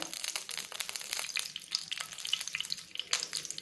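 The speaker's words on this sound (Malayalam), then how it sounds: "കടുക് പൊട്ടിക്കാം." Mustard seeds splutter and pop in hot coconut oil in a pan, a dense run of sharp crackling bursts, close and fairly soft, with no talking.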